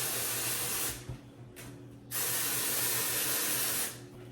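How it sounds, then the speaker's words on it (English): Moroccanoil dry texture spray is misted onto hair in two sustained, close hissing bursts, the second longer, with a short pause between them. "Then I go in with the Moroccanoil texture spray."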